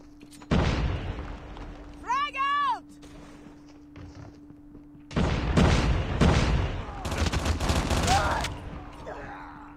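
A frag grenade blast and bursts of gunfire from a Call of Duty Mobile ranked match, with loud broadband bangs and rattling shots in two heavy stretches, a rising whistle-like tone between, and a player talking over the action.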